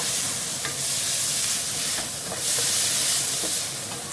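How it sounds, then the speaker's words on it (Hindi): Onions frying in a pan for a chicken cheese omelette: a steady, loud hissing sizzle with faint scraping stirs and small crackles, surging and easing over a few seconds, with no talking. "और इसको भी फ्राई कर लेते हैं इसको भी फ्राई किया जाए"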